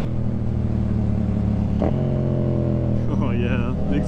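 A Yamaha FZ-09 motorcycle idles with a deep, steady engine and exhaust rumble close by, rising briefly in a rev near the end, while someone talks over it.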